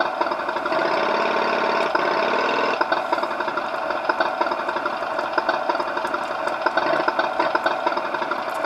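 A motorbike engine idles steadily in Tomb Raider 3, a continuous droning hum with a faint knocking pulse that holds level throughout without revving.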